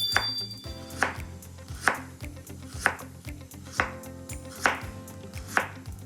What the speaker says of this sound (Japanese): この間に白菜切っておきますかね。 横にですね3、4センチ幅に